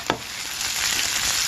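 Tomato dal ingredients fry in a pan with a steady, close sizzle, opening with a brief sharp clatter before the hiss settles into a continuous bright crackle.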